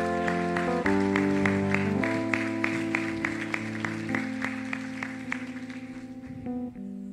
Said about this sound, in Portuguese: Aplaude a Deus por isso, aplaude.